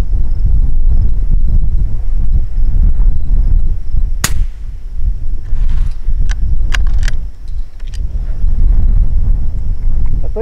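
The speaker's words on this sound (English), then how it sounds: "there is a lot of wind blowing." Strong wind buffets the microphone outdoors at a shooting spot with a .223 Remington rifle, a continuous low rumbling roar, joined by one sharp loud crack midway and a few faint clicks and knocks.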